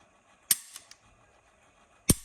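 Three quick snaps from a Tara TM-9 toy gun, two close together near the start and one sharper shot near the end, with quiet pauses between.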